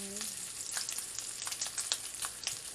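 Fatty bacon crisping in a pan, a continuous close sizzle with fine popping and spitting fat, fairly loud and steady, no speech.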